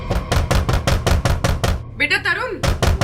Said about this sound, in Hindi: बेटा तरुण, दरवाजा खोलो, दरवाजा खोलो बेटा, मम्मी बाहर खड़ी है।